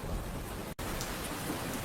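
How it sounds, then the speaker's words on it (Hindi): Steady rain falls outside a village shop, a dense, even hiss of drops that stays constant and fairly close throughout, with no voices. "बरसात अब धीरे धीरे हल्की हो जाती है"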